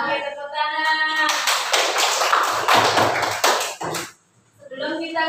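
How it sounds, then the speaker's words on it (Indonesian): A classroom of children claps hands together in a loud, close burst of rapid applause lasting a few seconds, then stops abruptly, with children's voices heard before and after. "Oke, tepuk tangan."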